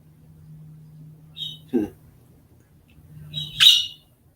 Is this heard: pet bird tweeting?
yes